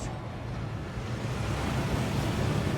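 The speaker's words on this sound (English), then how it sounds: "That waterfall washes away all enchantments." A waterfall rushes inside the Gringotts vaults in Hogwarts Legacy, a steady, broad roar of falling water with no voices over it.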